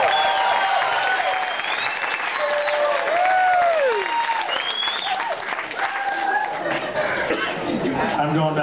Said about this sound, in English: Okay, clap.